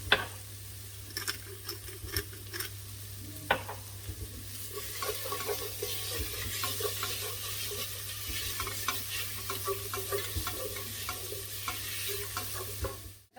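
Pumpkin sautéing in a pan with salt and pepper, a steady soft sizzle broken by occasional scraping stir strokes and light clicks, close and continuous with no talking.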